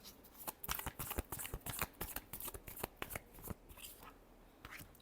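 Tarot cards shuffled by hand in quick bursts, crisp riffling flutters and soft slaps repeating close to the mic with short pauses between, quiet overall with no talking.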